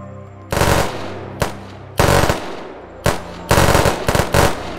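Gunfire in the Unturned video game during a roleplay session, with several bursts of rapid automatic fire and single shots, loud and close, separated by short gaps and no talking.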